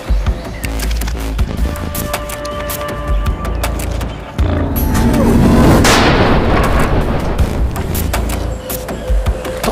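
Gunfire in a Filipino aswang horror drama: loud booming shots with heavy low rumble, continuing steadily across the scene with a sharper surge midway, and no talk over it.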